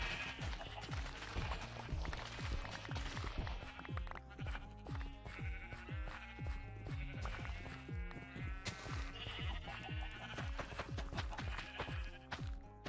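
Sheep bleat in the game Minecraft amid a dense, busy mix of repeated percussive hits and tonal game music, with the bleats hard to pick out clearly above the steady loud backdrop.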